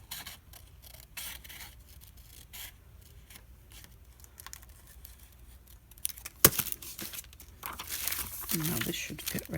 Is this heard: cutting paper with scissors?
yes